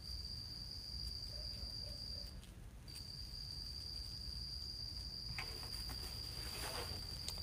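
Crickets chirping loudly outdoors at night, a steady high continuous trill that drops out briefly and then resumes, with soft rustling and a few faint other insect or animal calls underneath.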